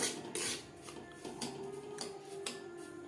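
Semolina roasting in a pan over a medium flame, a steady dry scraping and rasping as it is stirred, with a few sharper scrapes of the utensil against the pan.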